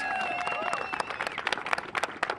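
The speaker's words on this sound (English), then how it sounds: "give them all a round of applause" An audience gives a round of applause at an astronaut arrival event in Florida, a brief burst of clapping and crowd noise that swells after a moment of background noise, fairly close.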